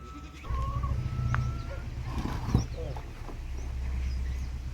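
Goats on a village farm bleat in short calls over a steady low background, with a person speaking nearby between the animal cries.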